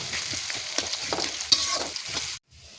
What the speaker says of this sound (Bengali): এবার পেঁয়াজ দিয়ে পেঁয়াজটা বেরেস্তা করবো